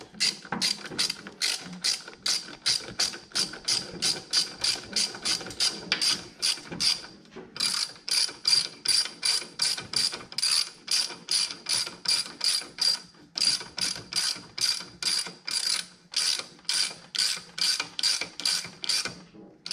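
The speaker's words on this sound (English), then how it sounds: "Ratchet." A ratchet wrench tightens a Harley battery bolt, a long fast run of crisp, close clicks in steady rhythmic strokes, briefly pausing twice before the clicking resumes.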